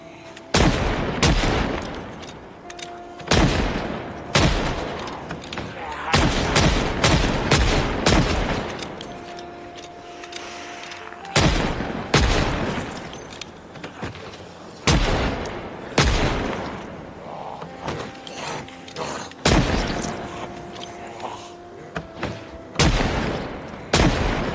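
Guns fire in Project Zomboid, loud and close. Single shots and quick clusters crack out at irregular intervals, with brief gaps between the bursts and faint tones from the game underneath.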